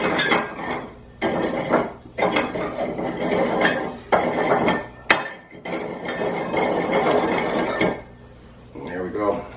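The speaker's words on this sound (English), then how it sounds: "we're just going to rim the glass" Glass clinks and scrapes against a plate as a cocktail glass is rimmed for a gin-basil salty dog, several loud close bursts of clattering separated by brief pauses.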